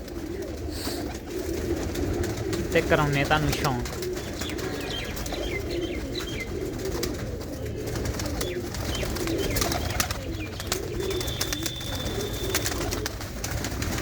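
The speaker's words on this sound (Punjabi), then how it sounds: "ਹੁਣੇ ਕਬੂਤਰੀਆਂ ਬਾਹਰ ਕੱਢਣ ਲੱਗੇ ਆ" Pigeons let out of their loft in a Punjabi village coo steadily at close range, with some chirping and a steady outdoor background; someone speaks briefly.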